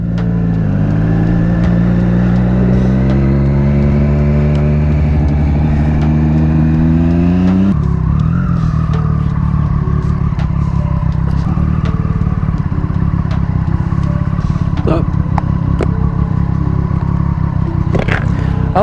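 A Honda Goldwing motorcycle rides past close by, its engine note climbing steadily before shifting to a rougher, steady drone, loud and continuous throughout.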